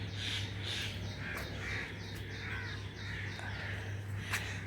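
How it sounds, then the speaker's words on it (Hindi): Crows cawing outdoors on a pleasant mid-morning, several harsh calls at moderate distance over a steady low hum, with one sharper caw near the end. "अब आवाज़ सुनिएगा परिंदों की।"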